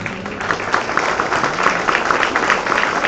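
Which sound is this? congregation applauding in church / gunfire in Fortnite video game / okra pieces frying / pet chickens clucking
congregation applauding in church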